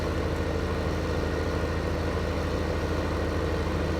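A tractor engine runs steadily in Farming Simulator 15, a constant low idling drone with a fast rhythmic throb. It stays loud and close the whole time, with no talk over it.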